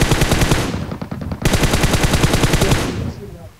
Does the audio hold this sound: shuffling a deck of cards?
no